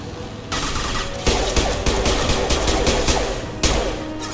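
Sustained automatic gunfire from the Omega mission of Mass Effect 2 Legendary Edition, loud and continuous rapid bursts with sharp onsets, no talk over it.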